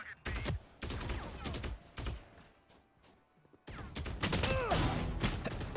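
Video game gunfire comes in close bursts of rapid shots, with a short lull in the middle before a dense, sustained volley resumes.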